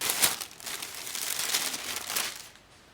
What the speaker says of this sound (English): So let's get into unwrapping some of these parts.